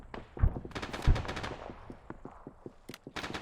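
Distant automatic gunfire in the Arma 3 war game, a scatter of rapid bursts and sharp cracks with two louder nearby shots standing out early, sounding like an ongoing firefight at some range.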